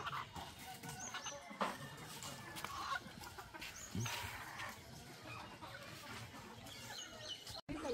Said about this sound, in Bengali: মুরগি সকাল সকাল জবাই করতেছি, দেশি মুরগি